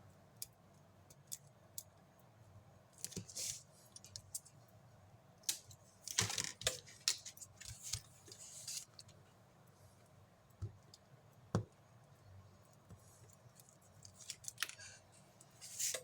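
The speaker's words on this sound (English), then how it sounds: "we're getting scissors out now. Maybe that'll work better." Scissors snip through craft material for a gift box embellishment in a quiet room, giving a series of sharp, irregular clicks and cuts with short pauses between clusters.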